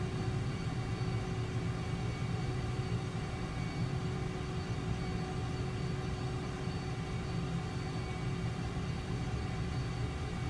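Steady, low engine rumble with a constant whine on top, A-10C jet engines spooling up in a flight simulator game, even and continuous throughout with no voices.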